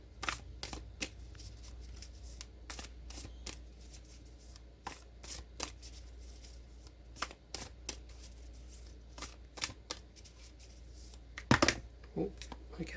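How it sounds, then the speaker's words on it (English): Tarot cards are shuffled and drawn in quick, papery flicks and riffles, soft and close against a low steady hum, with a louder cluster of snaps near the end. "Let's pull another card, and then I'll have a look at the whole spread."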